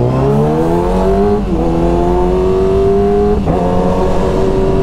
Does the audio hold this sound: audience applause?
no